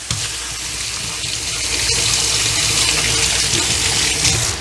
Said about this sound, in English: Let me just wash off my hands.